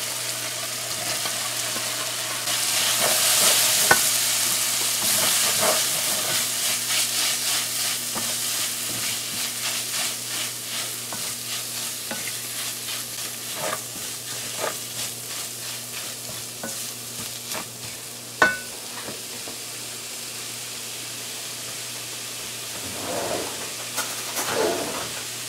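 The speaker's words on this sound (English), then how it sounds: "we're gonna add our shrimp here now" Shrimp fry in a pan with a steady sizzle and occasional scraping stirs, fairly close, with faint bird calls in the background.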